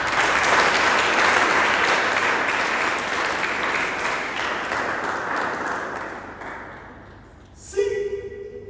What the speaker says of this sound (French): Alléluia. Acclamez pour vous-même.